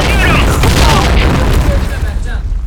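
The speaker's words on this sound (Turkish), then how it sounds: "Dikkat! Bomba atıyorum!" A loud bomb blast in the online shooter Point Blank, a dense booming rumble that fills the short stretch and slowly fades, with game voices talking over it.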